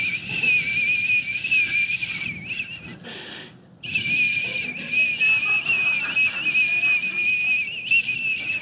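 A steady, high-pitched whistle imitated by a human voice during a stand-up comedy set drones almost continuously, pausing briefly once before resuming at the same pitch.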